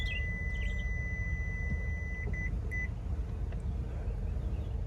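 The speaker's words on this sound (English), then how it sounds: "it's just beeping because it's sensing the seat belt's in the way" A thin electronic beep chimes a few times over a steady low engine hum inside a 2024 Toyota Sequoia Platinum, a seat belt warning triggered by the belt being in the way.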